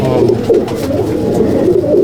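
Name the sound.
pigeons cooing in a pigeon loft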